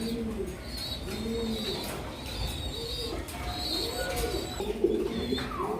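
Caged pigeons coo in repeated rising and falling phrases, several birds overlapping at close range, with a few faint chirps and a steady background hum.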